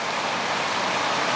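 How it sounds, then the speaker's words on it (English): Water boiling at geothermal hot spring vents, a steady close broadband bubbling and hissing wash that holds level with no pauses. "there's a lot of boiling sounds right now."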